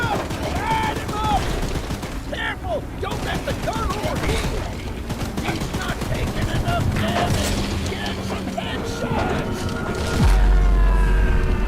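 Rapid gunfire aimed at Charles, the monstrous spider-train in Choo Choo Charles, rattling steadily and loud throughout amid game music, mechanical clatter and shouting voices, with a heavier thump near the end.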